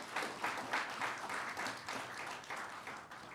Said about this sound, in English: 3 people clapped.